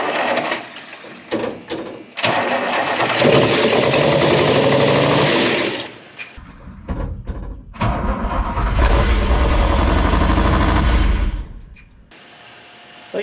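Buick Electra 225 parked since 1982, running with no exhaust: raw, loud engine bursts with cranking and sputtering between them and long stretches of rough running, cut by short quieter gaps.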